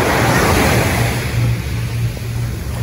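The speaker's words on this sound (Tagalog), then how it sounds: "Ang lakas ng alon." Ocean waves roll at Vanilla Beach in Palawan as a steady, loud wash of surf mixed with strong wind buffeting the microphone, with no clear breaks.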